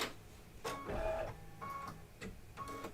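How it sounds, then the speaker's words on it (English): An embroidery machine stitches a design in short bursts of whirring, separated by brief pauses, fairly quiet and close. "it's going to do a little bit of the design stitching"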